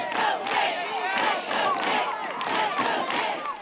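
A large Westfield crowd cheers and yells for the St. Mary Saints baseball team, a dense, steady roar of many voices with rising shouts throughout.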